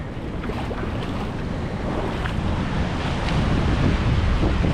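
Ocean waves washing into tidal pools on a Washington beach at Kalaloch, a steady loud rush of surf and churning water with wind buffeting the microphone, swelling slightly toward the end.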